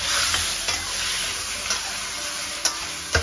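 Chicken wings stir-fried in a wok: a steady bright sizzle of hot oil running throughout, with occasional soft scrapes and taps as the spatula turns the wings, close by and without speech.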